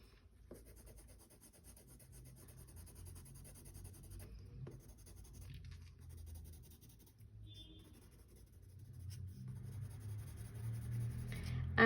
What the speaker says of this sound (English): I'm literally just shading by moving my pencil around my subject.